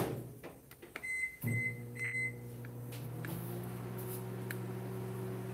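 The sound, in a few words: microwave oven running, tempering chocolate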